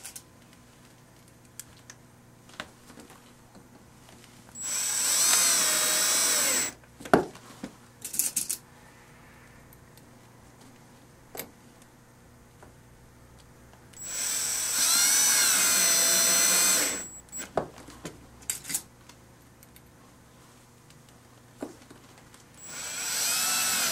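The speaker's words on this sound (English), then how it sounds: "Slowly insert the screw until you feel it grab." Power driver running screws into a plastic slider kit laid on a pad, two sustained whirring bursts a few seconds each with a rising pitch, close and fairly loud, plus scattered clicks and handling taps between them.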